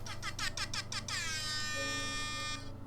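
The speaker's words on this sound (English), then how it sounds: "That's his air horn." A loud air horn blares in rapid repeated bursts, then holds one long sustained tone before cutting off, with a low hum underneath.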